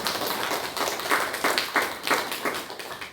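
A church congregation at a Korean Sunday worship service claps together in quick, fairly regular rhythmic beats, a close, moderately loud patter of many hands.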